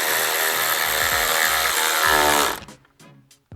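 A power driver whirs steadily as screws go into a plastic speaker bracket in a Nissan Xterra during a car audio install, a loud continuous motor drone that stops abruptly, followed by a few short clicks and scrapes.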